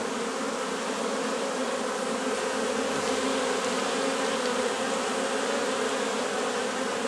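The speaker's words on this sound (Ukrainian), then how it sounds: "Це карпатська, селекційна. Це не проста дворняга. Угу. От вона. Оце бджола." Selectively bred Carpathian honey bees at a breeding apiary make a continuous, dense buzz, steady and close, filling the whole stretch with no voices.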